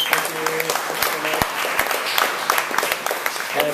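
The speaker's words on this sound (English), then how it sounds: "Can we have another round of applause for all the amazing readers?" An audience at a literary reading event applauds the readers, a dense burst of many hands clapping at close range that carries on steadily, with voices cheering and talking underneath.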